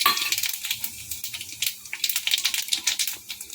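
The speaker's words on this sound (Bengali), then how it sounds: "একটা শুকনো লঙ্কাকে দু টুকরো করে নিয়েছি আর সামান্য একটুখানি জিরে ফোড়ন দিয়ে দিলাম" Cumin seeds and a dried red chilli broken in two temper in hot mustard oil, crackling and popping in rapid, irregular bursts close to the pan.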